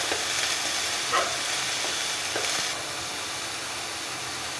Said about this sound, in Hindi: स्वाद अनुसार हम नमक डालेंगे और हल्का भूनेंगे